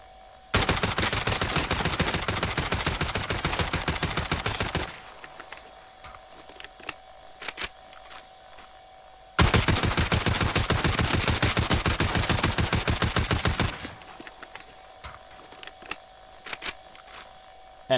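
ODEN rifle in Call of Duty Warzone firing two long full-auto bursts of rapid, loud, evenly spaced shots, each lasting several seconds, separated by a pause with scattered faint clicks and impacts over a steady tonal hum.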